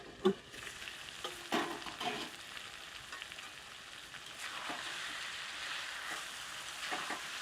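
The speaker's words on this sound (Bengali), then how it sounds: "আমার আলু মিশর ভালো করে কষানো হয়ে গেছে" Potatoes fry in a pan for a vegetarian jackfruit biryani, a continuous sizzle broken by several sharp stirring scrapes and clatters, close by, with no voices.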